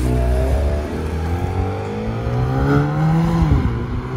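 A 2023 Haval H6 GT engine revs loudly and steadily, its exhaust note rising and falling in pitch, close by, with no talking.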